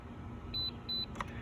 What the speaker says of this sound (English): So I'm gonna turn this off real quick. You'll hear 2 beeps.